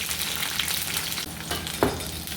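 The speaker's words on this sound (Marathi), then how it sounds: "त्यात आपण अशा तुकडे करून ह्या हिरव्या मिरच्या टाकून घेणार आहोत" Chopped green chillies fry in a hot pan with a continuous close crackling sizzle and a brief stirring clatter near the end.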